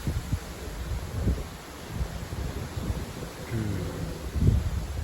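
Strong, gusty thermal wind of about 50 km/h on a hot July day rushes and buffets the microphone in irregular surges, with rustling from a shaking walnut tree, loud and close with no talk.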